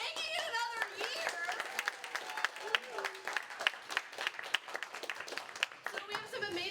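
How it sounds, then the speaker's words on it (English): Audience applause fills a comedy club at a New Year's Eve improv show, a dense, loud clapping crowd with sharp individual claps standing out and some voices mixed in. "Give you guys a round of applause for making it another year."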